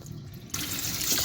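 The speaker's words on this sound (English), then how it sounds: "rinsing this rice till the water runs clear" Tap water starts running into a sink as rice is rinsed, a quiet lull then a sudden steady splashing rush that continues to the end.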